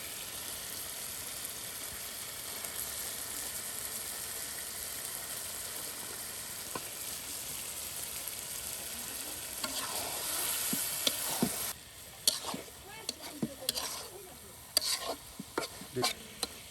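Goat meat frying and being stirred in spice masala in a village kitchen, a long steady sizzle that gives way to brisk, uneven stirring scrapes and knocks toward the end.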